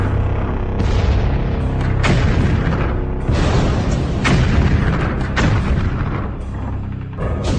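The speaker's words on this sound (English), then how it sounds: "But even more deadly than the well-aimed 75s are the fearsome German 88mm guns." German 88 mm guns of World War II fire in a heavy barrage, loud booming blasts arriving every second or so with rumbling echoes between, a dense, close, continuous roar of artillery.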